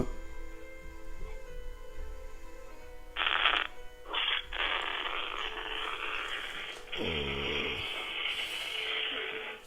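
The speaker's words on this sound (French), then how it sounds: "Le téléphone qui fait trop de bruit." A phone going off during a church service: bursts of harsh electronic ringing and buzzing noise start and stop abruptly over a faint background, moderately loud against the quiet room.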